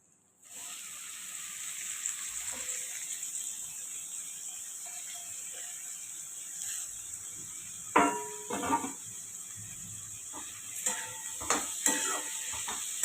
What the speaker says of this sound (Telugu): ఇది బాగా వేగిన తర్వాత మనం ముందుగా తరిగి పెట్టుకున్న కూరగాయలన్నీ వేసుకోవాలి